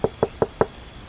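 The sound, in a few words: loud knocking on a gate door at night, in a cartoon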